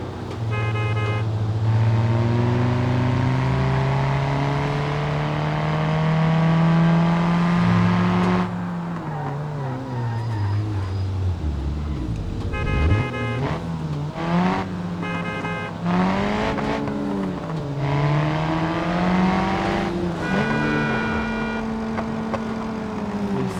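A Hyundai i20 doing stunts on a national highway revs loudly and steadily, its engine note rising and falling through sharp squealing tires, alone and close throughout.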